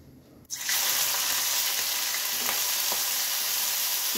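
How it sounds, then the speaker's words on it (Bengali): Prawns dropped into hot mustard oil in a wok, a sudden loud burst of sizzling after a quiet moment, then a sustained close frying hiss. "তেল গরম হয়ে গেছে, এখন এই মাছগুলো ভেজে নেব।"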